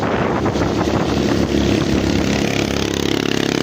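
A Suzuki Smash motorcycle climbs a mountain road with a steady, loud engine drone. Heavy wind buffeting on the microphone partly masks it, and the engine pulses more rhythmically toward the end.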